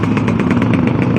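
A modified motorcycle engine at a busy parking spot putters in a fast, even pulsing rhythm, close and loud, with no voices over it.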